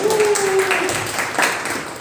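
Brief burst of applause from a studio audience at a high-school talk show, greeting a third-place finish in a student league; a steady, dense wash of clapping lasting about two seconds, with a faint tonal hum beneath.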